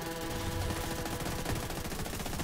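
Automatic gunfire in The Division 2 video game: rapid, overlapping bursts of shots crackle continuously and loudly, with layered weapon fire and game sound packed tightly together and no speech.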